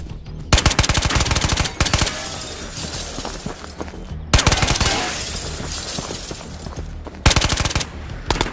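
Automatic gunfire in the multiplayer VR shooter Ghosts of Tabor, loud rapid bursts repeating across the clip with short gaps between them and sharp, shattering impacts.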